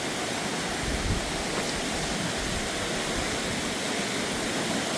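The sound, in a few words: flooded creek rushing during Hurricane Helene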